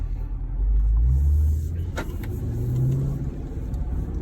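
A 2019 Jaguar F-Pace SVR accelerates on the road, its engine rumbling low and rising in pitch through the gears, heard loud and steady from inside the cabin.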